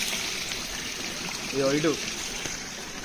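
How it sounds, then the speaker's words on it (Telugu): A hillside stream at Puli Gundaalu flows down from higher ground with a steady, close rushing wash throughout, and someone speaks briefly over it midway. "మొత్తం ఈ వాటర్ ఫ్లోయింగ్ అయితే ఇంకా పైన నుంచి వస్తున్నాయి"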